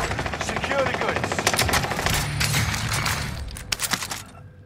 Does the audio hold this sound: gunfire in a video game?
yes